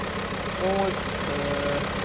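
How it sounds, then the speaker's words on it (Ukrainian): A used European car's engine idling evenly, a steady close mechanical hum with no rev changes, accompanied by brief faint tonal sounds. "Двигунчик е, працює рівно"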